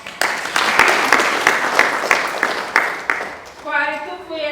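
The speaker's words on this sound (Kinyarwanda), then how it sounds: "uyu mubyeyi mumumpera amashyi" Audience applause for a parent at a meeting on the parent's role in education: steady clapping for about three and a half seconds, then it breaks off and a voice starts speaking.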